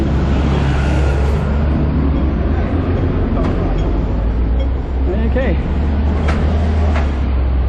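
Buses and traffic rumble loudly along a street near Tap Seac Square in Macau, a steady heavy engine drone close by with passing vehicles; a voice speaks briefly over it.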